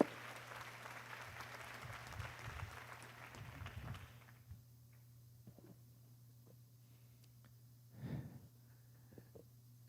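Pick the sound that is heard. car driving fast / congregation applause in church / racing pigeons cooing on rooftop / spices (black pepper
congregation applause in church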